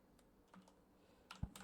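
A few scattered, soft key taps on a computer keyboard, quiet and close, ending in a slightly louder cluster of clicks.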